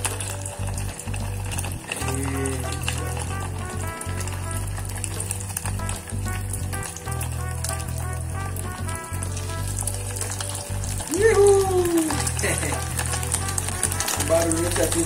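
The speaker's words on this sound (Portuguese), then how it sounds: "Ó o bacon, ó o bacon." Fish fillet and bacon frying in a pan, a steady close crackle and sizzle with popping bursts, under a low hum and occasional voices talking.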